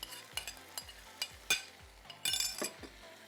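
Chicken thigh pieces sautéing in a pan, a quiet sizzle under repeated clinks and scrapes of a utensil stirring against the pan, close and intermittent.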